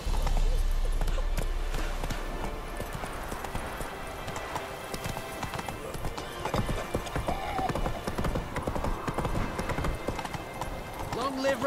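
A horse gallops in The Witcher 3: Wild Hunt, its hooves drumming in a fast steady rhythm on the ground, close and continuous, with background game sounds and brief voices.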